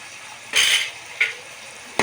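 A spoon stirs brinjal curry with tomatoes, turmeric and rock salt in a pan, giving three separate scraping, sizzling strokes against a soft, quiet background.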